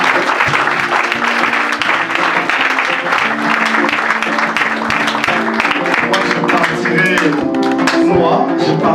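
Church congregation clapping and applauding to acclaim the Lord, a dense sustained round of applause mixed with cheering voices and music.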